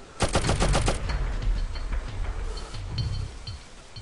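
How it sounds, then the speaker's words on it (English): Gunfire in the video game Abe's Oddysee, a fast burst of several loud, close shots followed by a rumbling tail and faint softer game noises. "Oh, he shot, but he didn't come after me"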